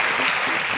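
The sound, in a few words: audience applause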